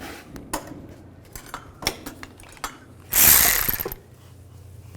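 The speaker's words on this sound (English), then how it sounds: "Take this one out with a 10mm socket." Ratchet with a 10mm socket loosening valve cover bolts on a 2005-2015 Nissan Xterra: scattered sharp metallic clicks and taps, then a louder grinding whir of about a second before a few more clicks.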